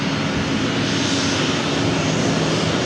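A Southwest Airlines Boeing 737-800 jet roars on takeoff at LAX, a loud, continuous broadband engine rumble and hiss that holds steady throughout.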